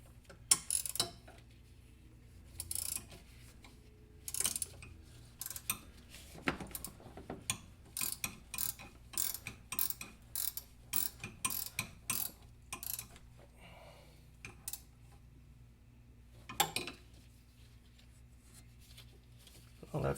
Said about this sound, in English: now I need to tighten down the crank pulley